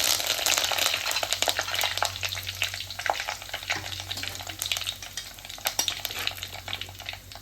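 Steady crackling sizzle of curry leaves frying in hot oil with mustard seeds and dried red chillies, with occasional stirring scrapes, continuous and fairly close.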